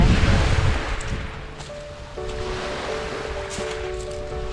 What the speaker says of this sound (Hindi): सिर्फ हवा का शोर है और पानी का शोर